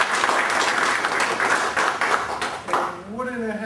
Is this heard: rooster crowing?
no